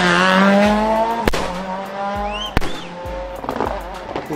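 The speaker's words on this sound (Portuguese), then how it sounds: "Apesar da fama dos farts serem de câmbio de dupla embreagem, essa característica também pode ser aplicada a qualquer câmbio automático ou automatizado, que é o caso do Audi RS6." Audi RS6 with an automatic gearbox, exhaust giving sharp fart-like cracks on gear shifts, a rising engine note broken by several abrupt pops and bangs, close and loud.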